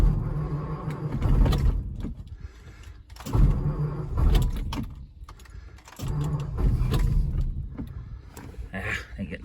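A 1951 Ford engine with a fuel problem is cranked in three long bursts, each a low churning groan of the starter turning it over, separated by short pauses, without catching.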